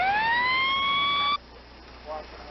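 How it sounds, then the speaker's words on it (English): A police car siren in 1989 Boston wails loud and close in a rising sweep, then cuts off abruptly, leaving a quieter hum with a faint distant siren-like tone afterward. "They're putting on individual sirens."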